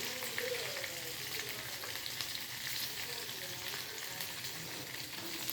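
Green chilies frying in hot oil in a pan, a steady, close, continuous sizzle and crackle that stays even throughout with no voices.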